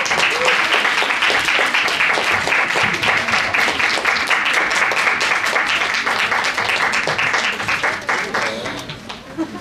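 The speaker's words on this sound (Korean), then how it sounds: "우리 친구들 큰 박수로 환영하도록 하겠습니다." Students in a school chapel service break into loud, dense applause to welcome a pastor to the front. The clapping is sustained throughout and eases off slightly near the end.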